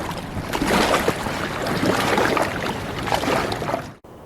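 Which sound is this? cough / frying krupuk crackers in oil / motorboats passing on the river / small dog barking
motorboats passing on the river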